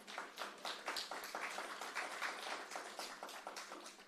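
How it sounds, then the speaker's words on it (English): An audience at a disability council panel discussion applauds with faint, distant, continuous clapping that stays steady for several seconds. "a round of applause."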